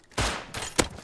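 Gunfire in the video game Rust: two quick, loud gunshot bursts close together, the second sharper, within about a second.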